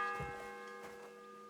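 A single church bell tolls once in Kingdom Come: Deliverance II, a clear ringing strike whose sustained metallic hum slowly fades.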